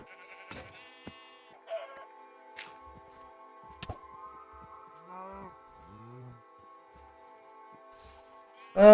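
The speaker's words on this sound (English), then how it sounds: "There's loads of sheep here" Sheep bleat now and then in Minecraft Better than Wolves, a few separate wavering calls spread over quiet game ambience, along with soft clicks and thuds and a louder bump at the very end.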